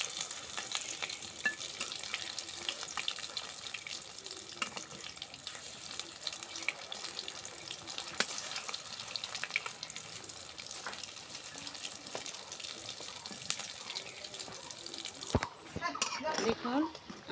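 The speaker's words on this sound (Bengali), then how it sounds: "দেখুন আমার ডিমের চপটা ভাজা হয়ে গেছে" An egg chop fries in oil on a clay stove, giving a steady, dense sizzle with faint clinks throughout, and a few sharper scraping stirs near the end.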